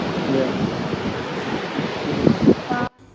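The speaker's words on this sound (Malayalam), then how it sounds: "നല്ല കാറ്റുണ്ട് കേട്ടോ" Strong seaside wind buffets the microphone at Bekal Fort, Kerala, in a rough, rumbling roar, with surf-like noise mixed in, ending abruptly.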